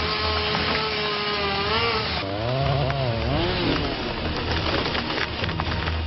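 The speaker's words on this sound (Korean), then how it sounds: "고막을 찢을 것 같은 날카로운 전기톱 소리에 정신이 없던 이때" Shrill chainsaw cutting trees at a logging site in steep mountain forest, heard close and loud as a continuous whining engine that revs and wavers in pitch as the blade works through wood.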